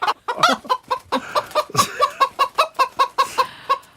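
A chicken clucks in a quick, steady series of sharp, fairly close calls during a live public radio broadcast, with no talk over it.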